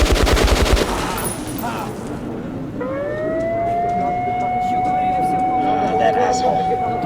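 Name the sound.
gunfire after order to open fire in the video game Metro Last Light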